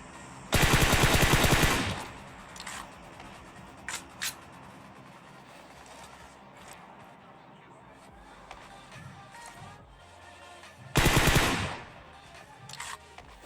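AK rifle fire in a battle royale shooter game, two loud sustained automatic bursts about ten seconds apart, with scattered single shots and faint game ambience between them.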